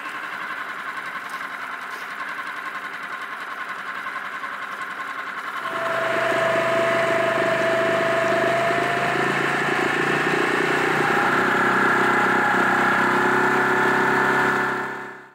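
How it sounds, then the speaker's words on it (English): A boat's outboard motor idles at tick over in cold water on a Scottish loch, a steady, even drone that steps up louder partway through and hums on continuously before stopping. "I kept the outboard and tick over to give it time to warm up"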